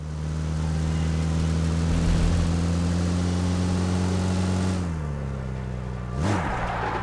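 Steady motorbike engine drone in an online multiplayer shooter game, holding a constant idle-like hum before the pitch dips and swells briefly near the end, loud and continuous with no talk over it.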